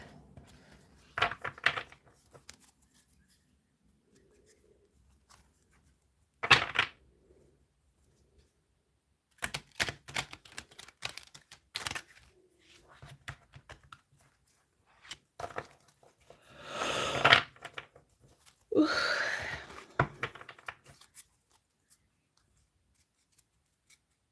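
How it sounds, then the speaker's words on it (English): Intermittent bursts of riffling and soft slapping of tarot cards being shuffled, quiet gaps between them, several bunched shuffles near the end. "I'm going to try and shuffle the cards a different way"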